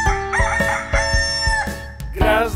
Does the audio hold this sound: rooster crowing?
yes